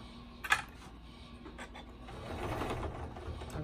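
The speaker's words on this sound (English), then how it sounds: "Take a couple stitches back and I'm just going to top stitch" Sewing machine top stitching around the hood of a quilted car seat poncho, a steady low mechanical hum that builds in the second half after a brief sharper click near the start.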